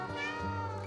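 A single short cat meow from the video game Stray, close and fairly loud, layered over the game's steady ambient background.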